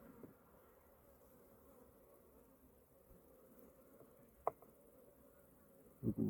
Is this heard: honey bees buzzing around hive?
yes